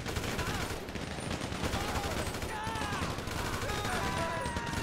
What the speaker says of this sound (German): Ich höre nur Schüsse.